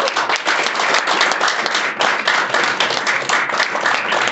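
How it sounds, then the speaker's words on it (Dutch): Audience applause at a lecture, a dense, steady clapping from a full room that stays loud and continuous throughout with no voices over it. "En ik wil een hartelijk applaus voor haar."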